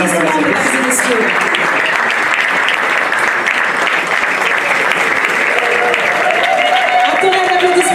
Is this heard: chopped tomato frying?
no